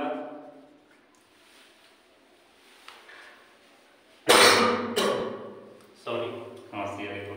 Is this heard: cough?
yes